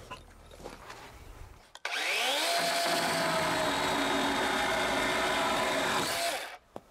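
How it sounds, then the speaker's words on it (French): An electric chainsaw roars steadily for several seconds while cutting through a wooden 2x6 board for a field fence gate, starting abruptly and cutting off at the end, loud and close with no talk. "Une scie mécanique électrique, c'est vraiment cool."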